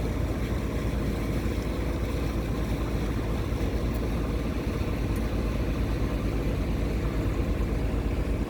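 A steady motorboat engine drones throughout on the River Ouse, a continuous low rumble with wind noise, fairly close and constant in level.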